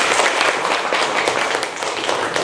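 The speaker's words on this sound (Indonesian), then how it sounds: "Ayo tepuk tangan dulu semua." A classroom of schoolchildren clapping together, a steady dense round of applause holding at full strength for a couple of seconds with no pauses.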